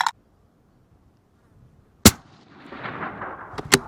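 A .22 Creedmoor rifle fires one loud, sharp shot that rings out briefly, followed by a softer crack and a second sharp report near the end, all outdoors with no talking.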